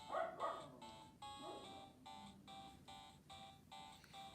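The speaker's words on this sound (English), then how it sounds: "Don't mind my dog barking in the background, of course." A dog barks in the background of a room, a series of repeated, evenly spaced yips and barks with whimpering tones, fairly faint and steady over several seconds.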